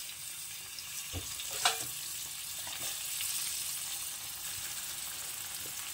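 Tomato, whole garlic and green chilli fry in hot oil in an iron pan, giving a steady, close sizzle throughout with a couple of brief clinks from stirring.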